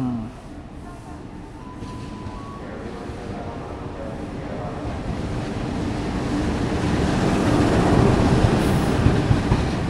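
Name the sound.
train passing through station on track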